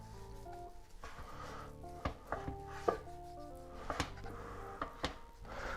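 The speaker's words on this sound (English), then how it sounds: "here we got the shiitake mushrooms, just slicing it and into lengthwise" Knife slicing shiitake mushrooms lengthwise on a board for Chinese spring rolls, a series of soft, close cuts and taps over about six seconds with a few sharper knocks, no talking.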